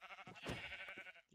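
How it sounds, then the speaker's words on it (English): A single drawn-out sheep bleat from Minecraft, quiet and wavering, heard alone for about a second. "These sheep are not dropping me any string."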